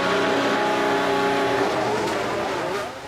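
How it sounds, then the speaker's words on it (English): Formula 1 cars in the racing game F1 Manager 23 during a race at Canada, a loud sustained engine whine with shifting pitch as a car enters the pits, slowly fading toward the end. "Now into the pits comes Perez, Sainz has definitely jumped him in the pits then."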